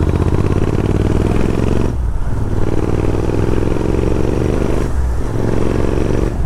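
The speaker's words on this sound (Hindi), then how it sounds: "साउंड देखो तुम बाइक का इसका" A Royal Enfield Continental GT 650 motorcycle engine, loud and close, holding a rumbling idle and revving up twice in quick blips, with a clattery exhaust throb between them.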